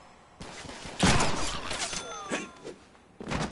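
Gunfire bursts in the Deadpool video game: a loud volley about one second in, then scattered shots with zipping whine-like streaks, fading before another burst at the end.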